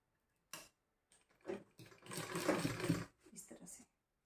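A home sewing machine stitches along the folded edge of a fabric bag made from old clothes, running in short bursts and then a longer steady whir, fairly close and moderately loud.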